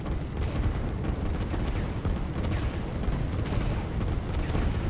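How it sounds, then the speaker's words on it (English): Artillery fire in the strategy video game Line War comes as a dense, continuous barrage of low booming thuds and rumbling blasts, moderately loud, with no talking. "We've got another set of artillery moving in."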